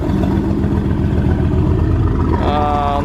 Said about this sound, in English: Sounds so good. Twin turbo V8.